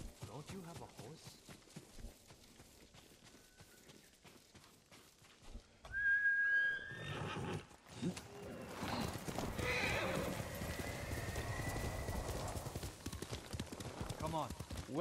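Horse whinnies and clip-clopping hooves in the samurai video game Ghost of Tsushima, a sharp neigh followed by steady hoofbeats on the ground, with game characters talking over parts of it.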